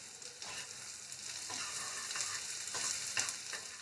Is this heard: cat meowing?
no